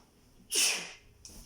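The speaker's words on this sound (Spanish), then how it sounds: "Ay, me dio el estornudo." One close sneeze, a sharp breathy burst that fades over half a second, followed by a brief breath in a quiet room.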